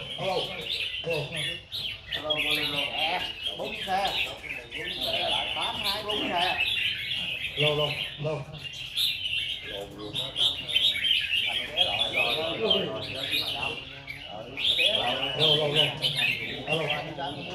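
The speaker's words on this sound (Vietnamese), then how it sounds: "chỉ có 50 mấy lòng chim mà chúng ta nghe coi như là đầy cái lỗ tai luôn rồi" Red-whiskered bulbuls singing at a bird song contest in Binh Duong: many birds chirp and warble at once in a dense, overlapping chorus, loud and continuous throughout.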